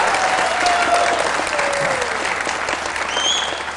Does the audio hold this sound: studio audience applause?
yes